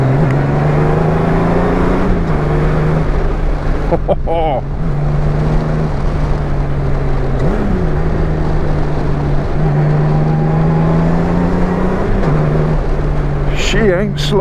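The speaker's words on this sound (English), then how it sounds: "We're going to go sport mode, country lanes, on a Goldwing Bagger." Honda Goldwing Bagger motorcycle ridden in sport mode along country lanes, its steady engine drone rising and falling through gear changes, with wind rush throughout and a rider's voice breaking in briefly.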